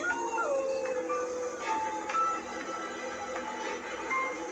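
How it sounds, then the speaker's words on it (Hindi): Several dogs howl in long, wavering, overlapping cries, steady and fairly loud against a constant background hiss. "कुत्ते रोने लगे।"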